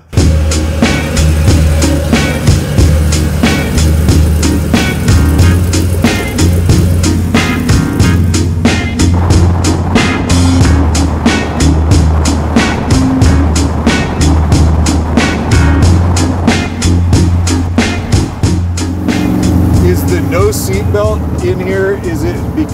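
Chevy C10 restomod truck on air suspension cruising down the road, a steady loud engine and road drone heard from inside the cab with continuous speech over it.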